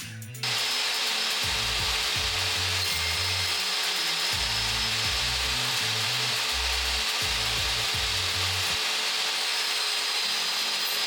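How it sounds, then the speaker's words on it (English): Table saw with its blade lowered to a quarter inch cutting a wood joint with a miter gauge: a steady high whine broken by repeated rasping bites as the wood is pushed through pass after pass, close and loud. "I'll drop my blade down to 1/4 inch, and using a miter gauge, I'll remove the material until it all locks together nice and tight"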